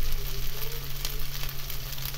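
An egg stirred into pasta sauce sizzling in a frying pan, a steady close frying hiss with soft irregular stirring scrapes and a low hum underneath, no voices.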